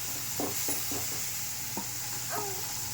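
Onion and tomato fry for a home-made herbal kuzhambu with a constant close sizzle, broken by a few short stirring knocks and scrapes, and no talking.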